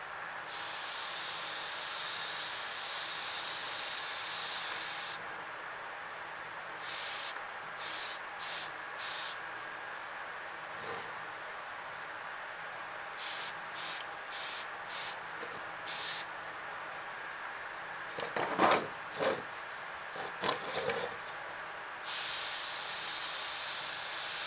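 An airbrush sprays a fine mist of black paint across a hand-carved swimbait, a steady close hiss in long runs broken by short rapid bursts and pauses.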